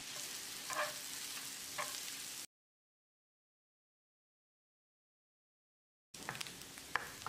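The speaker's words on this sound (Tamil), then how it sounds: "பொடியாக நறுக்கின 1 பச்சை மிளகாயை சேர்த்து வெங்காயத்தை கண்ணாடி பதத்துக்கு வதக்கிடலாம்." Chopped onions and a finely cut green chili sauté in a pan for a chapati side dish, a steady close sizzle with faint stirring scrapes, broken by a stretch of silence before the frying resumes.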